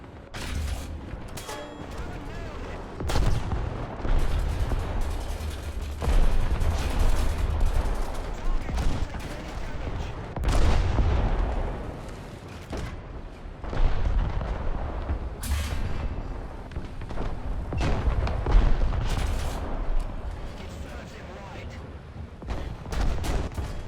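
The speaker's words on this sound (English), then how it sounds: "Our sector is under artillery barrage." Repeated heavy artillery blasts and booming impacts roll through a War Thunder tank battle with an M4A2 75mm Sherman, loud and irregular over a constant low rumble, with a voice speaking over parts of it.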